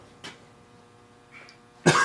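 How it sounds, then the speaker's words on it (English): Coughing in a woodworking space, with a short cough early on, a faint catch in the middle, then a louder, closer burst of coughing at the end. "Sawdust making me cough."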